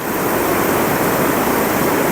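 Rain-swollen water pouring over a weir on the Huai Saeng stream after heavy rain, a loud, steady broadband rush of flowing water with no break and no voices.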